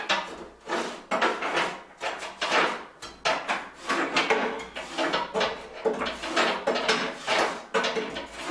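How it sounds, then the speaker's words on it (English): A metal scraper rasps and knocks inside a sooty wood cook stove, with repeated close scraping strokes and clunks in an irregular rhythm, fairly quiet and with no talking. "And then we'll scrape back in here."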